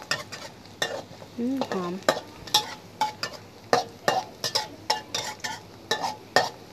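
Diced garlic fries over medium heat in a pan while it is stirred. A continuous sizzle runs under frequent sharp clicks and scrapes of a utensil against the pan, and a brief voice is heard.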